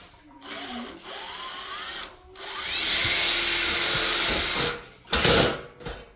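Power drill driving a screw during a cove light installation in a living room, with a whirring motor rising and falling across several close, loud bursts, and brief pauses between runs.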